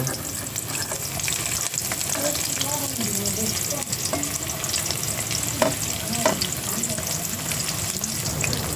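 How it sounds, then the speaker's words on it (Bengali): Onion, chili, garlic and dried chilies fry in a hot wok with a continuous crackling sizzle, broken by the scrape and clatter of stirring, fairly close and with no talk. "এবার কেটে রাখা মশলা পেঁয়াজ মরিচ রসুন ও শুকনা লঙ্কা একে একে কড়াইয়ের ভিতরে দিয়ে নেব"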